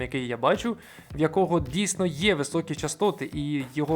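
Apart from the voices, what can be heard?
No distinct noise like a dog, phone or traffic.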